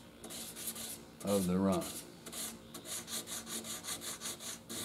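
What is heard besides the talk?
sanding a run out of motorcycle clear coat with sandpaper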